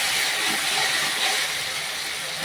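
Tomato pieces sautéing in a pan give a steady, dense sizzle and hiss that holds without a break at close range.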